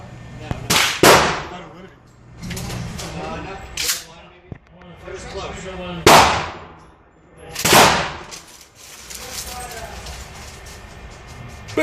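A Mossberg 500 shotgun fires at an outdoor range, several loud sharp blasts spaced a second or more apart, each with a short decaying echo, with people talking between shots.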